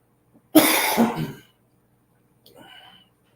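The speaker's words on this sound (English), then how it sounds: "I still got a cough" A person with a lingering cold gives a harsh, loud cough burst lasting under a second, followed after a pause by a softer throat-clearing sound, close to the microphone in a quiet room.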